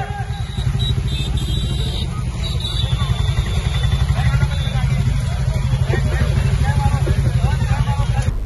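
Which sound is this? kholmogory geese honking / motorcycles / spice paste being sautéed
motorcycles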